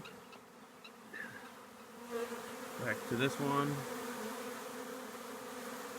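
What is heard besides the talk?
honeybee swarm fanning and flying around empty hive equipment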